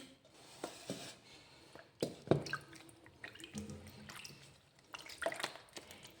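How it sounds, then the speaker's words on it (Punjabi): Wet squelching and dripping as a kitchen towel is soaked and handled in water, in irregular splashy bursts at close range. "ਇਹਨੂੰ ਪਾਣੀ ਦੇ ਵਿੱਚ ਐਨ ਚੰਗੀ ਤਰ੍ਹਾਂ ਆਪਾਂ ਨੇ ਗਿੱਲਾ ਕਰ ਲਿਆ"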